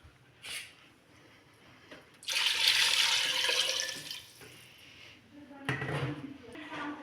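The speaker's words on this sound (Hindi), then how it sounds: "मैंने ऐड कर दिया पानी।" Water pours into a pot of beef trotters (paya) curry, a steady rushing splash lasting about two seconds, with softer clatter and movement before and after.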